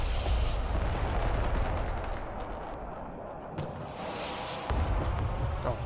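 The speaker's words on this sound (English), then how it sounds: "I'm hitting the bridge on the left and the right with MLRS just to be safe" Rocket artillery from an MLRS launcher in the game Broken Arrow fires in a dense, continuous barrage. It comes as a loud, rumbling wall of booms, with sharper reports around the middle and near the end.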